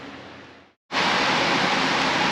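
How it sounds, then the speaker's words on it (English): A fan blows in a garage during work on a 2003 Ford Ranger, giving a steady, loud broadband whoosh that cuts out briefly and then returns at full strength. "Alright, excuse the fan."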